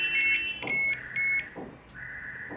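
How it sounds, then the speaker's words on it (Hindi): A multimeter gives continuity beeps while printer pins are tested during a printer repair, making short high electronic tones in quick bursts, some steady and some pulsing, close and clear with no talking. "यहाँ पे फास्ट में बीप आ रहा है"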